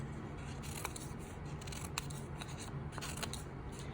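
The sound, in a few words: scissors snipping construction paper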